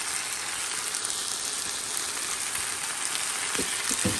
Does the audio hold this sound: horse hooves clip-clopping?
no